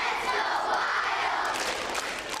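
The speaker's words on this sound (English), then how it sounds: "The more than 400 children at Horace Mann Elementary School in St. Paul began chanting for their favorite Minnesota sports team." Hundreds of elementary school children in St. Paul chant together for the Minnesota Wild, a loud, dense crowd roar of young voices filling a school space for a couple of seconds.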